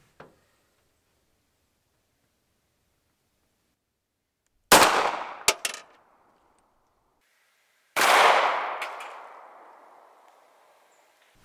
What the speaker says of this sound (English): next we're gonna do the 380 out of the Sig Sauer P290.